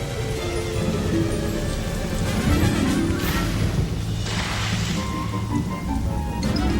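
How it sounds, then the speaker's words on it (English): Steady heavy rain roars with a dense hiss, joined by a couple of brief splashing crashes partway through. "Rain pounded the earth."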